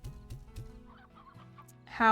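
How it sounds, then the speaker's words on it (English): Chickens in the video game Slime Rancher give three short, close clucks in quick succession, then quieter trailing bird calls, ending in a sudden burst of louder noise. "do I need to feed these chickens? Do they just live?"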